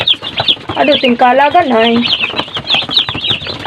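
45-day-old chickens in a family farm coop cluck and squawk close by, with one drawn-out call rising above the flock while a person talks over them.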